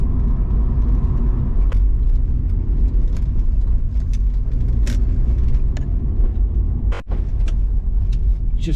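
A Rover 200 BRM drives along on a sunny day, its engine droning steadily beneath a heavy, constant road rumble inside the cabin, with a few light rattles and one brief dip in the noise.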